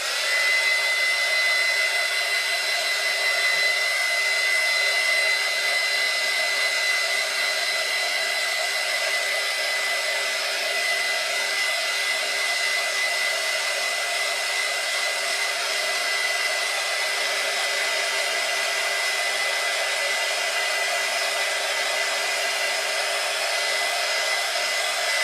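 A hair dryer runs steadily and loud for the whole stretch, drying alcohol ink on a ceramic tile, with a constant whooshing airflow and a high motor whine and no talking.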